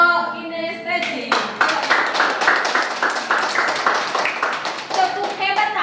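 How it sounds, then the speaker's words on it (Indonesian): A classroom group claps for the kinesthetic team, with rhythmic, fairly close hand-clapping that starts after a spoken line and keeps going at a steady beat, while voices carry on over it. "Yuk, berikan tepuk tangan untuk Kelompok kinestetik."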